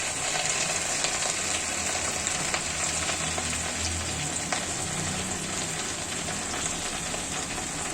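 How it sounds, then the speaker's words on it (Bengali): Chopped onion and garlic sautéing in a pan with tender jute greens for a Bengali pat shak dish, giving a steady, close frying sizzle that holds evenly throughout with no talking. "এখানে আমার পেঁয়াজ রসুন এগুলো কষানো হচ্ছে"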